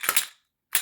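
A Glock 40 10mm pistol being cleared: two sharp metallic clacks in quick succession, then a pause and a third clack, close and loud with no talking.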